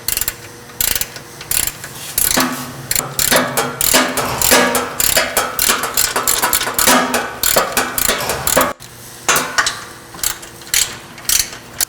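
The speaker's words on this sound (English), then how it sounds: "you will loosen the sway bar mount to the frame with a 14 millimeter socket" A ratchet with a 14 mm socket loosens the sway bar mount on a Toyota Tacoma frame, clicking loudly and close in repeated quick bursts of strokes with brief pauses between them.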